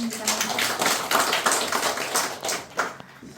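Audience applause at a children's literature award ceremony in a small seminar room, a modest crowd clapping unevenly for a few seconds with sharp individual claps standing out before it tapers off.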